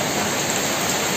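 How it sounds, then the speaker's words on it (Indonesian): Rain falls in a steady, dense hiss that stays loud and even from start to finish, with no voices. "soalnya ini hujan"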